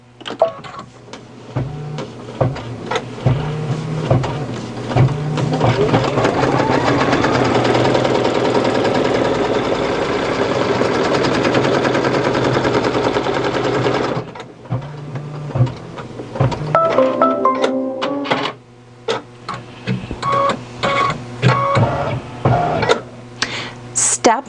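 An embroidery machine sews the placement stitch for a belly applique on an in-the-hoop unicorn stuffie, whirring steadily in long rhythmic runs broken by pauses and short stuttering bursts, fairly close and loud.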